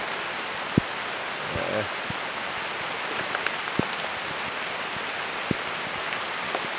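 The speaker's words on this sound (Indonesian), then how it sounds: "Lagi hujan di sini ya, teman-teman." Rain falling on a garden in the afternoon, a steady broadband hiss of drops with a few sharper drips landing nearby.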